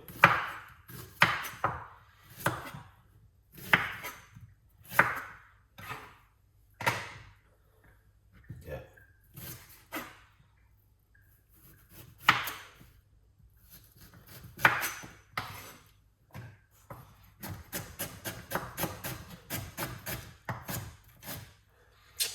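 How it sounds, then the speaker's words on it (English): A knife rough-chops ginger on a cutting board in uneven bursts of sharp knocks, quickening into a rapid run of chops near the end. "Rough chop your ginger."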